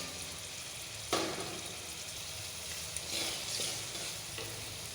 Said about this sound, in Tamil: எண்ணெய் சூடானதும் நறுக்கின மாங்காய் மீடியம் ஃப்ளேமில் ஒரு 3 நிமிஷம் வதக்கணும்